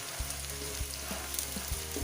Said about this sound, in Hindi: 1 से 2 मिनट इसको सोटे करेंगे।